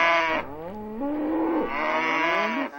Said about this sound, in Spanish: ¿qué son esas vacas que se escuchan allí?